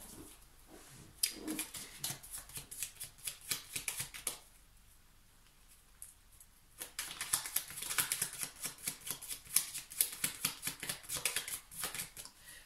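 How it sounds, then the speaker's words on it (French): Small tarot cards being shuffled and drawn, close-up bursts of rapid papery flicking and riffling, broken by a short quiet pause before a longer, denser stretch of shuffling. "je vais tirer des petites cartes supplémentaires"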